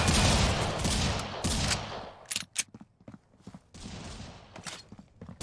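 Gunfire in the mobile shooter Critical Ops bursts in rapid, dense volleys at first, then breaks into scattered sharp shots and clatters, loud and close.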